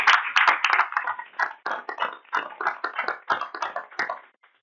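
Audience in a veterans' panel event gives a round of hand clapping, dense and steady for about four seconds, then quickly tapering off to silence.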